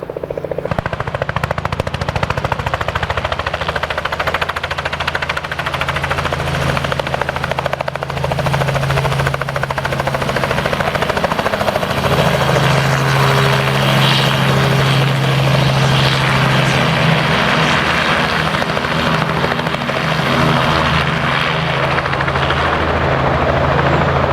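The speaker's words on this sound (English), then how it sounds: "Here comes the helicopter." A small helicopter's loud, chopping rotor beat drones continuously, growing steadily nearer and heavier throughout, with no talking, in Snowdonia.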